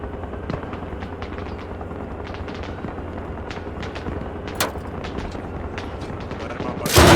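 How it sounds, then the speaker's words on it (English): Machine gun fire in the combat game Arma Reforger: a dense run of rapid bursts and scattered distant shots over a steady battlefield rumble, ending in a sharp loud blast. "Machine gun."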